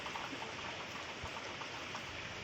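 Steady, faint rainfall patters continuously during Cyclone Remal, a soft wash of drops with no voices.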